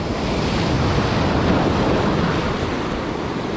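A steady, loud roar of surf breaking over a reef fills the whole stretch, with waves rushing continuously and wind buffeting the microphone.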